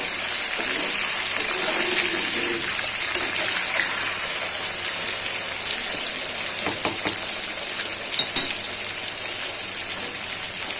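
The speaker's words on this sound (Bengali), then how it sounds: "এবার আলুটাকে নুন আর হলুদ দিয়ে ভেজে নেব।" Potato pieces with salt and turmeric sizzle in hot oil in a pan, a steady hiss with faint clinks of utensils.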